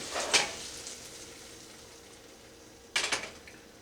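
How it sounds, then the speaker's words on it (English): White wine reducing over high heat in a hot pan for a salmon dish gives two short, bright sizzling hisses, one near the start and one near the end, with a quiet low simmer in between. "And I'm going to let that reduce for a little bit, just basically to boil off the alcohol"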